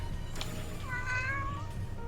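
A cat meowing close to a microphone: one rising-and-falling meow, clear and near, over a constant low hum.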